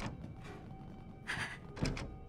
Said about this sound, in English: No, something hit that door.